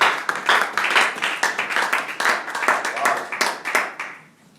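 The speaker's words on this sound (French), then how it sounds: "Applaudissons pour lecture de la parole." A church congregation claps after a Bible reading, a loud burst of many hands clapping in quick rhythm that fades out abruptly near the end.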